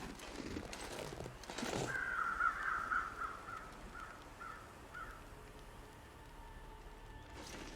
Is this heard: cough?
no